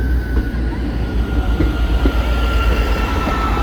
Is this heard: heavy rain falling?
no